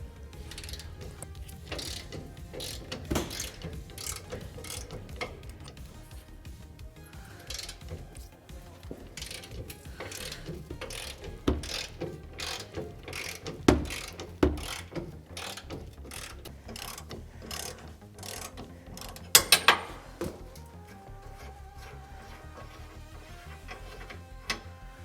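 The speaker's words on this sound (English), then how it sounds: "we're going to be removing this nut here and this nut here on the bumper" A ratchet wrench loosens large 24mm bumper nuts on a Ford F150 truck, giving rapid, fairly quiet clicking runs broken by a few louder metallic knocks and clunks.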